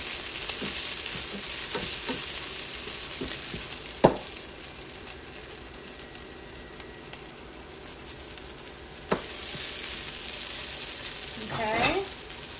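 Cooked bacon fries in oil for a Montana breakfast chowder, producing a soft steady sizzle with two sharp clanks and a brief bubbling stir near the end.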